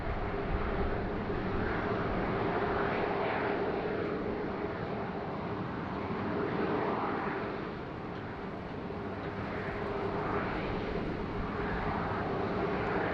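Airplane at Sydney Airport, a continuous loud jet engine roar with broad rushing noise, swelling and easing slightly over several seconds from a moderate distance.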